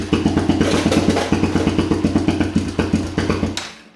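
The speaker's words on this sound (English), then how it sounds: "It's trying. Got some noisy valves." Honda TRX400ex ATV engine idling with its carburetor detached and noisy valves, a steady rapid clattering pulse close by that cuts off near the end.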